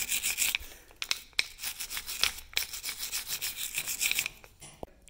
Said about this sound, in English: I scrape my surface with the brush.